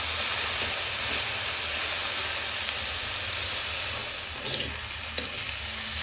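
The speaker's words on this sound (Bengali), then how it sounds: "এখন এটাকে একদম ভালো করে ফ্রাই করে নেব" Chili mash fries in hot oil, a steady bright sizzle and hiss, close and constant, with faint stirring scrapes now and then.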